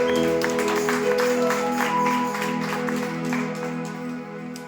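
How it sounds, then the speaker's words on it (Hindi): A church congregation at a Sunday service claps for Jesus, the scattered claps sitting over sustained organ or keyboard chords that carry on steadily and fade slightly toward the end. "यीशु मसीह के लिए जोरदार ताली मारो"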